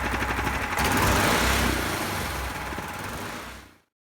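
A supercharged 420cc street-legal go-kart engine runs with a rough, steady mechanical drone and buzzy pulsing, holding fairly even before dying away and cutting out to silence.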